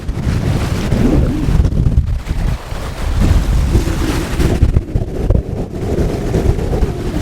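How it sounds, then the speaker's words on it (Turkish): Loud, constant wind roars and buffets the microphone, with waves washing and surging underneath throughout, on the coast at Bördübet, Marmaris. "şansımıza bugün Bayağı rüzgarlı ve dalga var"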